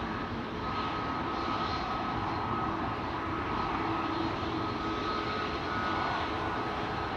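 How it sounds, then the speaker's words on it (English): A Delta Airlines jet taxis toward runway 24 at Amsterdam Schiphol Airport, its engines producing a loud, steady roar with a sustained whine that holds throughout. "Delta in the background, on the move to runway 24."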